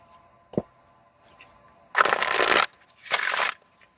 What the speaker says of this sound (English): Even though these cards are super thick, I have no trouble shuffling.